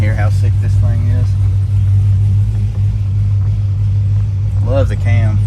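Supercharged 2016 Dodge Scat Pack with a Whipple blower and big cam, heard from inside with the window down: a loud, steady low engine rumble throughout, with voices talking over it at the start and end.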